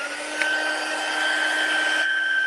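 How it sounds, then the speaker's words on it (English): Heat tool melting gold embossing powder for stamping: a steady, loud whirring blower with a constant whine, running alone for the whole stretch and briefly shifting in tone near the end. "So I've got my gold embossing powder. And now my heat tool."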